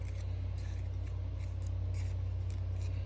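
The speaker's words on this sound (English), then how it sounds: "we're going to take our precision scissors and slightly cut into the center" Precision scissors snip into paper flower petals, a quick series of faint, close cuts over a steady low background hum.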